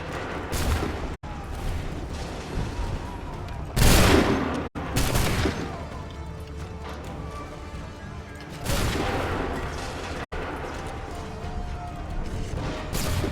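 Musket volleys crack out in Assassin's Creed III, with heavy bursts of massed gunfire, booming impacts and rumbling battle noise across the scene, punctuated by brief silent gaps.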